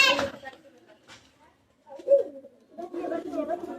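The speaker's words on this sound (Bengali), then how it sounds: "আছে দ্বিতীয় জোড়া পাকিস্তানি কবুতর" Pakistani high-flyer pigeons cooing in short, soft bursts close by, with a pause between calls and a longer stretch of low cooing toward the end.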